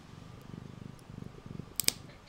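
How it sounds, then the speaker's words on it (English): A cat purrs steadily and close while its claws are trimmed, a soft rhythmic rumble with a couple of sharp clicks from the clippers near the end. "Listen to her purring."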